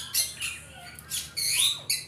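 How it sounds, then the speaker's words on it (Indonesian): A flock of weaver birds in an aviary gives scratchy, high squawking calls in irregular bursts, moderately close, with no talk over them. "Nah itu ada segerombolan burung manyar"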